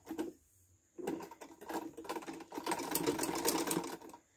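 Domestic sewing machine running in short bursts while a pillowcase seam is stitched and backstitched, a brief whir at the start, then a steady, louder mechanical stitching hum that builds toward the end, heard alone without talk.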